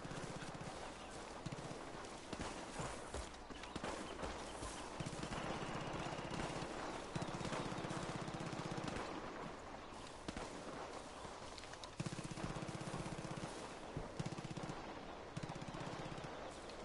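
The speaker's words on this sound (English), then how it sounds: "Hear gunshots." Rapid bursts of automatic gunfire in the game Far Cry 5 rattle repeatedly over a dense, noisy background, loud and continuous with brief pauses between volleys.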